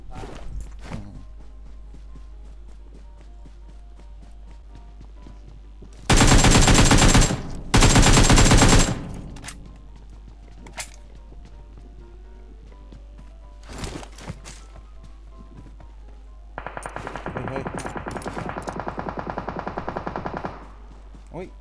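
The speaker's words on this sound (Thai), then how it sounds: "มันมีคนยิงหน้าเราตรงเนี้ย" Automatic weapon fire in the mobile battle-royale game PUBG Mobile: two loud, dense bursts close together, later a sustained rattling volley, with scattered softer shots and footstep-like taps between.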